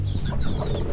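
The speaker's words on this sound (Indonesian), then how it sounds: "Nah, ini ayam-ayamnya." Free-range village chickens on a farm cluck in a brief, busy burst of overlapping calls, close and moderately loud.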